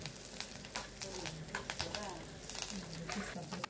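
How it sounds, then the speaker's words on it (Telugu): Onion and curry leaves crackle and spit in a pan, a quiet broad hiss peppered with small pops and stirring scrapes, heard at low level under a faint background voice. "ఇలా ఫ్రై చేసిన తర్వాత కరివేపాకు వేసుకొని ఇంకా బాగా ఫ్రై చేసుకోవాలి"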